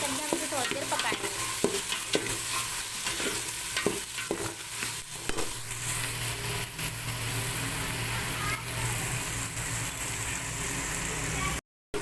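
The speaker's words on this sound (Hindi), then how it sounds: "अब हम इसमें बॉयल जो चना था वो हम इसमें ऐड करेंगे, बॉयल चने, और वो ऐड करके हम इसे थोड़ी देर पकाएंगे" Boiled chickpeas fry with spices in a pot for chana deghi pulao, giving a steady broadband sizzle with occasional stirring scrapes, close and continuous throughout.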